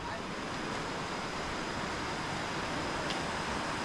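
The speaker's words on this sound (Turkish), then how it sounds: "Buradan su sesi geliyor. Dere geçiyor." Steady rushing water from a nearby stream in Vang Vieng, Laos fills the whole clip, a constant broadband wash, with no breaks or voices.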